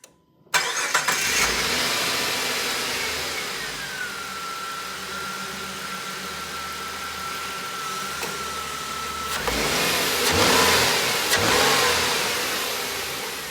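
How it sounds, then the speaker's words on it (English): A 1999 Dodge Intrepid with a 2.7L V6 cranks, catches and settles into a steady idle. A whining tone holds through the middle of the run, and the revs rise briefly near the end. No one speaks. "let's start the vehicle and make sure she runs on all 6 cylinders"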